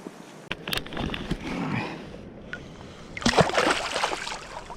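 A released steelhead splashes back into a river, with a few brief splashes and sloshing water up close, followed by a louder, longer burst of splashing.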